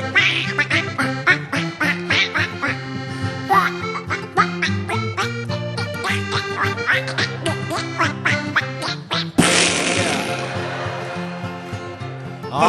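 Quacking duck sounds ring out in quick, rhythmic bursts over a music track in a comic duck-hunting song, loud and close, followed by a noisy burst near the end.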